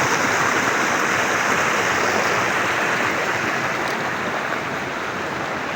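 A river flows in a remote mountain area with a steady, dense rush of water, loud and continuous throughout, no voices.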